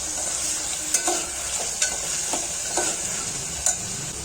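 Curry leaves, chopped tomato and coriander being sautéed for masala khichdi, with a steady frying sizzle and a few spaced spatula taps and scrapes against the pan.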